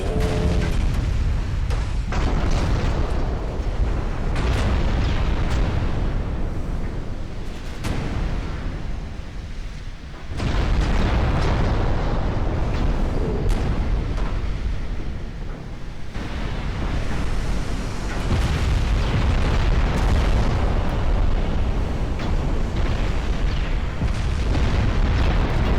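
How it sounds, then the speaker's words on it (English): Battleship 8-inch gun shells strike and explode in a naval strategy game, producing dense booming blasts over a constant roar like surf, with a few softer lulls between impacts. "8-inch guns doing some damage from the battleships."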